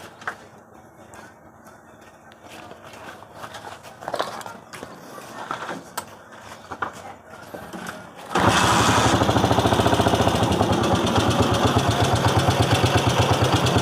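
A motorcycle with a faulty ignition starts with its key switched off and settles into a loud, steady, close idle after several seconds of handling noises and clicks.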